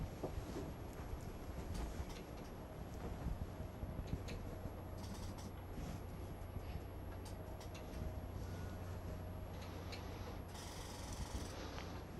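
An earth engine generator mechanism speeds up with a steady mechanical whir, creaks and gear-like ratcheting, continuous and moderately close, with no talking.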